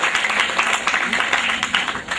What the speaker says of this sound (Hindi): जोरदार तालियां उनके लिए खासकर।